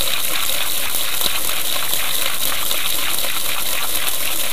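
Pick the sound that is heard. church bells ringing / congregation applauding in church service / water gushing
water gushing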